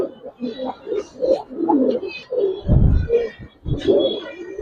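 Giribaz and coloured pigeons coo at a farm in repeated low, throaty calls close by, with occasional voices and handling noise mixed in.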